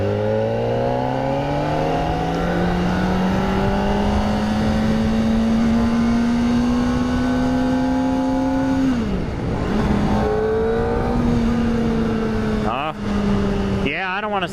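A 2023 Kawasaki ZX-4RR motorcycle engine winds up in a long, high, climbing whine through the gears, with a brief dip and then rising again, loud and close against wind noise, with a short shift blip near the end.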